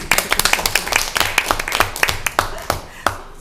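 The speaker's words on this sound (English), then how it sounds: "I just want to give you a round of applause for the great job you're doing." A handful of people clap at a Paris city council meeting, the separate claps sharp and uneven, thinning out over a few seconds, with faint room noise underneath.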